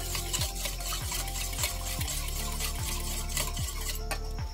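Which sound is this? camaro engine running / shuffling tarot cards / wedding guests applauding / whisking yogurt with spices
whisking yogurt with spices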